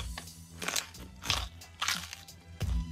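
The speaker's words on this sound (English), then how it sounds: "Stefan eats a carrot to imitate the sound of a horse" Crisp crunches of a carrot being bitten and chewed close up as horse-eating foley, several sharp bites spaced about half a second apart with softer chewing between.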